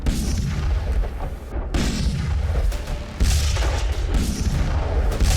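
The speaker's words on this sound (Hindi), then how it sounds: "SH-15 हॉवित्जर तोप, यह भी मेड इन चाइना।" SH-15 howitzer artillery fires repeatedly, with heavy booming blasts recurring roughly every one and a half seconds over a continuous loud roar and rumble.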